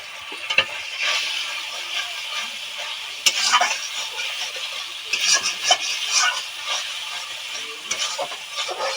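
Spices with turmeric, a little sugar and ghee being stirred and sautéed in a pan for a paneer dish, steady sizzling frying under repeated scraping of a spoon against the pan, close and fairly loud, with no talking.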